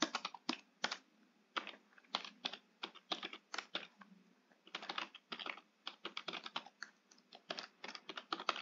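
Rapid, irregular keystrokes on a computer keyboard as code is typed, clicking close and clear in quick bursts with short pauses and no voices.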